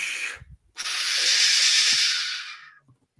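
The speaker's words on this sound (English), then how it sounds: "Henry only blew steam at him and made him wet" A long, loud hiss of steam from a Thomas & Friends engine, preceded by a short puff, swells and fades over about two seconds with no voices.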